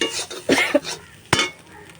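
Pointed gourd peels are stirred in a frying pan, giving a few soft scraping and clinking strokes of a utensil against the pan over a faint sizzle, with one sharper knock near the end.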